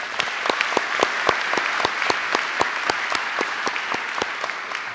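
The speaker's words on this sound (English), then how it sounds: "Please join me in giving them a round of applause" Sustained audience applause at a high school academic awards ceremony, honoring the ROTC Color Guard, with many distinct sharp claps standing out over a steady dense roar of clapping for the full stretch.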